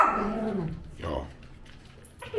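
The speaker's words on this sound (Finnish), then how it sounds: "vielä vähän haukkumaan sinne omalle peilikuvalle sinne" A dog barking and whining at its own reflection in a mirror indoors, a drawn-out whimpering bark followed by a shorter yelp, with people talking over it.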